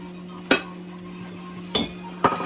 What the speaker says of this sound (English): I'm just gonna mix in with the eggs, flour, butter, and get the cake.